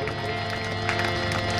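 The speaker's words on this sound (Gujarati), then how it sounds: "એમને પણ તાળીઓના ઘરથી વધાવો" Applause and crowd noise from a live audience at a Gujarati folk program at the Parpada Ramapir temple, greeting a flute player with a steady, dense wash of clapping that swells slightly partway through.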